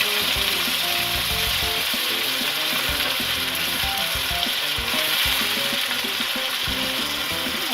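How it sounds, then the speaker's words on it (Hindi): Ground onion, garlic, ginger and spices sizzle in hot oil for aloo anday, a steady loud crackling fry close up and unbroken throughout, with no voices heard. "और ये सारे मसाले डालकर अब हम इसको भून लेंगे।"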